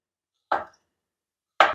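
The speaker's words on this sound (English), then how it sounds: "So let me go and chop everything" Two sharp knife strikes through ginger on a cutting board, spaced about a second apart, close and fairly crisp with silence between them.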